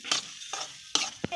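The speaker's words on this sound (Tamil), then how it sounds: "இந்த மாதிரி கொஞ்சம் கூட அடியே பிடிக்காமல் நம்ம கிண்ட போகிறோம் பாருங்கள்" Fried rice is stirred in a pan with a spatula, giving four quick scraping strokes over a faint sizzle, close and brief.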